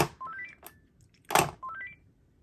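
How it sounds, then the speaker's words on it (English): A Panasonic KX-TG938x cordless handset plays its rising charge tone twice, each time a quick stepped run of ascending electronic beeps, with a brief clack of the handset being placed or handled in between, heard close with no talking. "this is the only non-premium design US or Canada Panasonic phone to have the rising charge tone"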